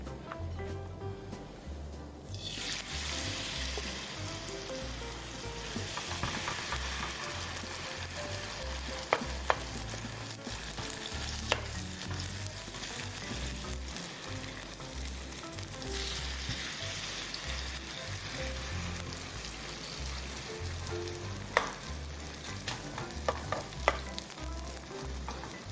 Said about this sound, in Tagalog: lagyan na natin ang ating batter mix evenly sa ating pan